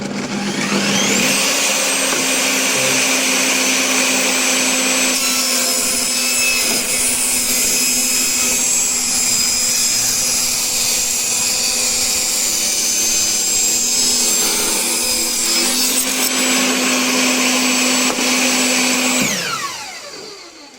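A table saw with a rip jig spins up and cuts thin wood strips, giving a loud, sustained high whine with a steady hum beneath for most of the clip before winding down near the end; no talk.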